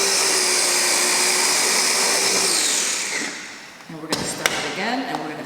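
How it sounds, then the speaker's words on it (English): A blender whirs loudly and steadily, churning walnuts into creamy walnut butter, then winds down with a falling pitch before a few close thumps and knocks follow. "Just blend it until you get to a consistency that you like."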